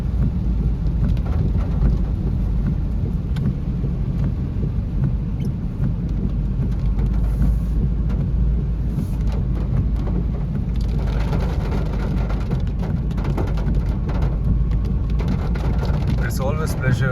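Monsoon rain patters steadily and loudly around a car, a dense continuous hiss with a low rumble underneath, unchanging for the whole stretch.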